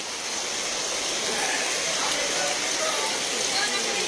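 Floodwater from a swollen river rushes in a dense, steady roar on Kaingin Road in Samaon, loud and close, with no breaks and no talk over it.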